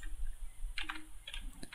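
Computer keyboard keys pressed in a short quick burst of clicks, likely a Ctrl+F shortcut, quiet and close, with no talking.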